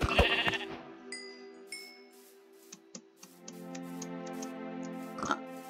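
Sheep bleat several times in Minecraft, with a few light clicks and taps between the calls.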